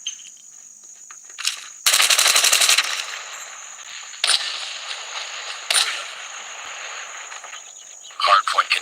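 Rapid automatic gunfire from Call of Duty Warzone Mobile, in a dense burst followed by shorter volleys and single shots over a thin electronic whine, ending in a few quick pops.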